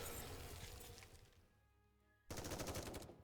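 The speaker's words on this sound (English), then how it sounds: "Bullets fly in all directions," Automatic gunfire in a Nikke video game cutscene: a loud rattling burst, then a quieter lull with a lingering tone, then another sharp rapid volley of shots.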